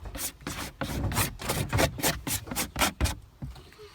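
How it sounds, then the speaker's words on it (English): A tool scrapes a surface in about a dozen quick, rhythmic strokes during harvesting, close and crisp with brief pauses between strokes, before stopping near the end. "scraping"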